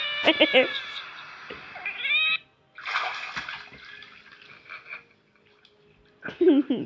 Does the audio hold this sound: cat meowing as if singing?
yes